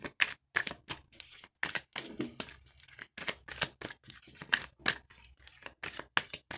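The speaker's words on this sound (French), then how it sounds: "Je vais quand même continuer à brasser. Mélanger les cartes." Playing cards being shuffled by hand, a quick series of crisp riffling and slapping bursts in uneven rhythm, close and fairly quiet, with no talking.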